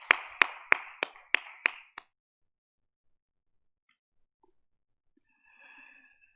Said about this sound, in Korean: 우리 하나님 영광의 박수 올려드리겠습니다